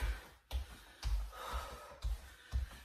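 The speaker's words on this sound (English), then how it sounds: "It's my breathing that freaks me out," Heavy, labored breathing during exercise, five or six loud gasping breaths roughly half a second apart, close to the microphone and heard alone without talk.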